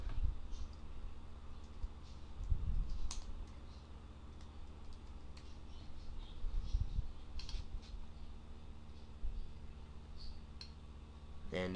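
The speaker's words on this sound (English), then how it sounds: "I'll just type in my username." Typing on an iMac G3 computer keyboard as a username is entered, with soft, fairly quiet key clicks in uneven bursts over a low steady hum.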